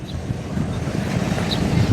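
Wind blows under the Bucana Bridge over the Davao River, a steady low rumbling rush like wind buffeting a microphone, with faint water sounds and a few thin distant chirps.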